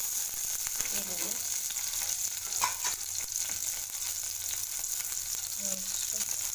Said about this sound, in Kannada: ನೆಕ್ಸ್ಟ್ ಇವಾಗ ಈರುಳ್ಳಿ ಹಾಕ್ಕೋಬೇಕು